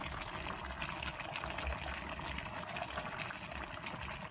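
Chickpeas (garbanzos) being poured into a pot, heard as a steady, watery rushing and rattling that runs the whole time, fairly close and moderately quiet, with no talking.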